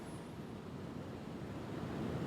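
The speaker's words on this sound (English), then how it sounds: "Just the sheer power of these waves, this ocean, what it can do is just breathtaking." Heavy ocean surf pounds the shore at Buxton on the Outer Banks during Hurricane Erin, a steady loud roar of breaking waves with wind buffeting the microphone, rising slightly toward the end with no voices.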